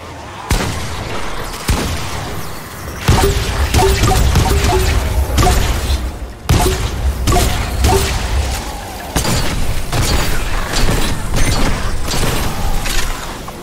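Repeated shotgun blasts fired at husks in a survival video game, loud and dense, with heavy booming shots and clattering mechanisms filling most of the stretch and only short breaks between bursts.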